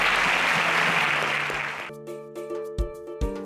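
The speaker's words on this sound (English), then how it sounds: "Can we give him a round of applause as he exits" Applause from a game show studio audience, a dense burst of clapping for a contestant leaving the stage that cuts off abruptly into sustained music tones with a few sharp hits.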